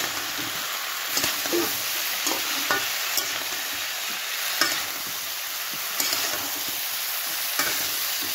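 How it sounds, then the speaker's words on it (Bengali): Fried cauliflower is sautéed with spices in a pan for a vegetarian curry: a loud, steady sizzle runs throughout, broken by intermittent scrapes and knocks of the spatula. "ফুলকপিগুলো যে ভেজে রেখেছিলাম সেগুলোও দিয়ে দেবো। দিয়ে ভালো করে মশলার সাথে আমি কষিয়ে নেব।"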